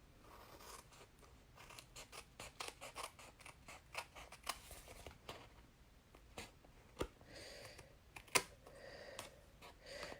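Scissors snip away excess patterned paper while a handmade friendship card is being made, giving a close, quiet series of sharp cuts and crisp paper rustles in an irregular rhythm with no talk.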